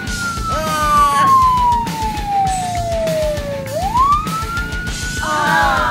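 A cartoon fire truck siren gives one long, loud wail that slowly falls in pitch, then sweeps quickly back up, over busy background sound.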